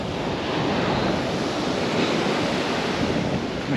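Sea waves washing onto the shore at Skegness beach, a continuous broad roar of surf mixed with wind buffeting the microphone, steady and fairly close.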